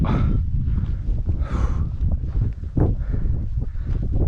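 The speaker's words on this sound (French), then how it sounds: "Dans le vent et le froid." Strong gusty, cold wind on a mountain summit during an ultra trail race buffets the microphone with low rumbling bursts and rustling, continuous and close throughout.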